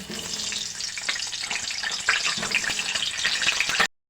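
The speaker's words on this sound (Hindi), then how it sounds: "तो हम आलू को फ्राई कर लेंगे।" Diced potatoes fry in hot oil with cumin for a village-style aloo matar sabji, giving a steady, close, broadband sizzle that holds even for about four seconds before cutting off abruptly.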